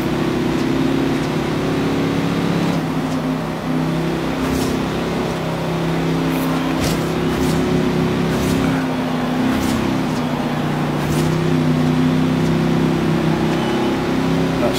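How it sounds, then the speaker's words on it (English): A steady, droning car engine from a 1957 Chevy Bel Air in a racing video game hums at a constant pitch throughout, with no rises in revving, loud and close, joined by faint ticking sounds. "Oh, listen to that engine."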